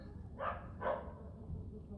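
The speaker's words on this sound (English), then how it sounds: "dog, dog activity." A dog gives two quick barks a fraction of a second apart, fairly faint and somewhat distant, over a low background hum.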